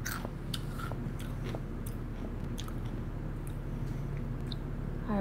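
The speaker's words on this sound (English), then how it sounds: "this crunching's becoming a lot" Crunchy food is chewed close up, with repeated sharp crisp bites and munching over a low background hum, no talking.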